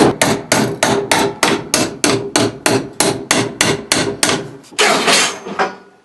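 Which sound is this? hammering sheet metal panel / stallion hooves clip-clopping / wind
hammering sheet metal panel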